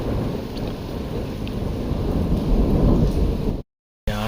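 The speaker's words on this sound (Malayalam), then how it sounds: "ഇടിമിന്നലും ഉണ്ട്." Heavy rain during a thunderstorm in Cherrapunji, Meghalaya, a loud, dense roar of downpour with a deep rumbling undertone, continuous and close, cutting off abruptly near the end before a brief return.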